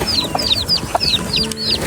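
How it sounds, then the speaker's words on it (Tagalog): A hen clucks in short repeated bursts close by, with higher chirps of chicks scattered throughout. "tingnan natin yung manok dito po"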